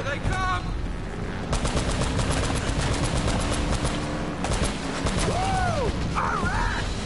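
Rapid bursts of heavy turret gunfire from a vehicle chase in the video game Uncharted: Drake's Fortune, loud and sustained, with metallic mechanical clatter, crashes and other game effects.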